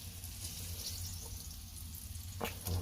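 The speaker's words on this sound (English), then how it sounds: "put my first piece of eggplant in there. Oh, there you go, nice little sizzle." Soft, steady sizzling of eggplant frying in a pan, quiet and continuous, with a faint clink near the end.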